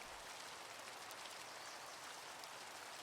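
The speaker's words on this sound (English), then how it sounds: "Ooh, acid rain." Acid rain pours down in the Minecraft modpack MC Eternal, a steady, even hiss of falling rain with soft pattering drops, faint and continuous throughout, no one talking.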